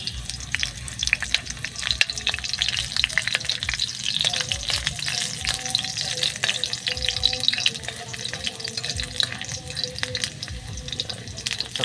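Garlic frying in a pan for Chinese ampalaya (bitter melon), a continuous crackling sizzle with stirring scrapes and clinks, loud and close, no talking.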